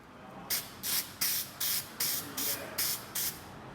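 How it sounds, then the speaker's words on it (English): Cheap black spray paint dusted from an aerosol can as a guide coat on 1954 Corvette parts, heard as eight short, evenly spaced bursts of bright hiss, each about a quarter second long. "we use this real cheap black spray paint as guide coat"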